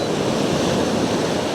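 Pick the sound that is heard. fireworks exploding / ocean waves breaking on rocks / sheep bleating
ocean waves breaking on rocks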